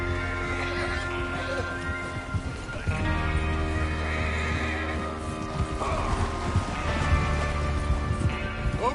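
Horses neigh and whinny in the video game Red Dead Redemption 2, several loud calls over a bed of clip-clopping hooves and a low rumble, continuing throughout.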